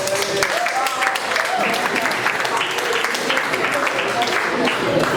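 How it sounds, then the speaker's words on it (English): Schoolchildren at a school visit in Abuja clap for a classmate, continuous lively applause from a group of children with talking mixed in. "Can we clap for him?"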